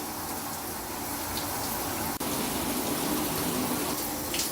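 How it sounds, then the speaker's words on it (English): Continuous water spray gushes and splashes over pet parrots during an outdoor shower, a dense steady hiss lasting several seconds with one brief dropout midway. "Sometimes the water just splashes on them and that's it."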